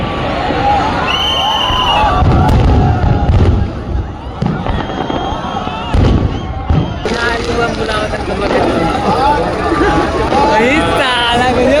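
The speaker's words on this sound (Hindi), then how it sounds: "और फिर कुछ समय बाद आतिशबाजी शुरू हो गई और हम लोग आतिशबाजी देखने लगे" Fireworks crackle and pop continuously at Dev Diwali celebrations in Varanasi, with a large crowd cheering and chattering throughout. Loud bursts rise above the steady roar of people.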